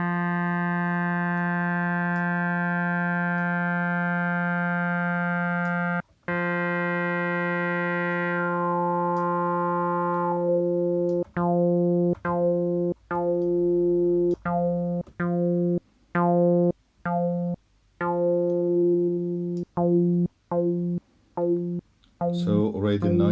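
OB-Xd software synthesizer modeled on the Oberheim OB-X: a long held buzzy tone whose filter sweeps darker, then a series of short, evenly repeated plucked notes, close and clear.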